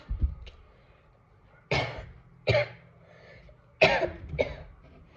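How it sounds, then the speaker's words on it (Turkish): Four or five harsh coughs close to the microphone, spaced out with quiet gaps between them. "O yüzden birazcık öksürüyorum"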